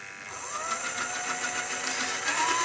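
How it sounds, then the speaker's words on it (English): Small electric motor on a homemade r/c car robot grinding while running too slowly to turn its wheel, a steady close whine with rhythmic buzzing pulses. "The kind of grinding noise you could hear just then is where the it's going too slow to actually make the wheel move."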